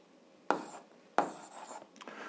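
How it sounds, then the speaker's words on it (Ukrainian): A pen writes an answer on paper for an eighth-grade algebra exercise, giving two sharp scratchy strokes followed by lighter scribbling, close and fairly quiet with no talking. "Пишемо відповідь."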